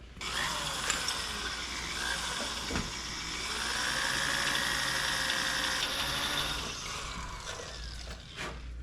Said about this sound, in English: It's cotter pin. Should be soft. Let's try to drill it.